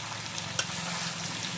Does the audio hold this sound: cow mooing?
no